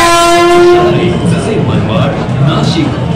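A Vande Bharat express train sounding a loud, close, harmonic horn blast that fades into rumbling rolling wheels and carriage noise as it passes.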